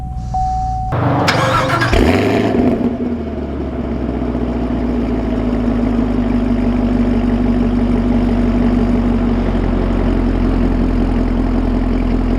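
A 2019 Chevy Camaro SS 1LE fires up with a short, loud starter crank and roar, then settles into a steady, deep, rumbling idle that holds close and constant with no one talking.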